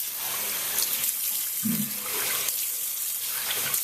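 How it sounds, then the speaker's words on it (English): Steady running water from a tap splashes continuously, with a brief low gurgle partway through as water is cupped or splashed onto the face before shaving. "I'm making my face wet"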